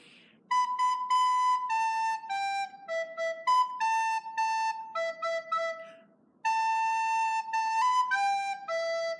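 A recorder plays the opening phrase of a song, a sequence of clear, sustained whistle-like notes in a stepwise melody with short breaks and a longer pause near the end, loud and alone.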